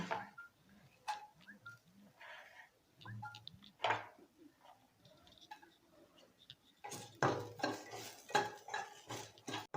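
Curry leaves roasting in a pan for idli podi, with a spoon scraping and clinking against the metal in intermittent strokes, close and fairly quiet, building into a busier burst of stirring toward the end.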